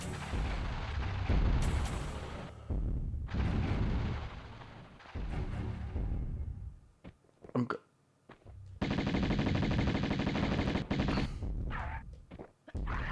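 Rapid bursts of dual pistol fire from Tomb Raider, loud and close in repeated volleys with brief gaps, mixed with game effects and a voice talking over parts of it.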